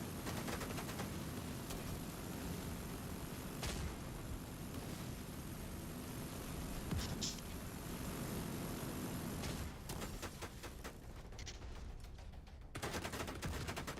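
A Gatling gun fires in sustained dense bursts during a video game boss fight against the Iron Horse, with continuous rattling gunfire and game effects filling the mix almost unbroken, loud and close.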